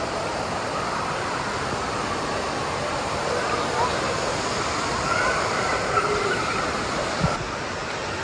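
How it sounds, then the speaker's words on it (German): A waterfall in an indoor swimming pool at Center Parcs De Vossemeren in Belgium makes a steady, broad rushing wash of water that fills the whole clip, with voices talking over it. "Schön gemacht hier mit dem Wasserfall."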